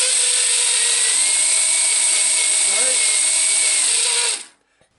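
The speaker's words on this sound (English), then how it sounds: "This drill sounds like it's just about ready to die" A high, strained electric drill, worn and near failing, whirring steadily for several seconds, pitch wavering slightly as it bores into wood, then cutting off abruptly.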